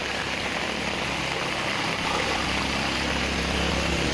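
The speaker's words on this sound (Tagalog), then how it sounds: "Lakas ng agos ng tubig, guys." Strong water current flowing hard during a sudden heavy downpour in Masbate, a loud, steady broadband rush that fills the whole clip with no talk over it.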